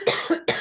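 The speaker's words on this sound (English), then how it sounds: "Excuse me, I'm gonna cough." A short burst of close, loud coughing from someone speaking in a talk on broiler chicken flock health: two or three quick rough coughs in under a second, with no other sound.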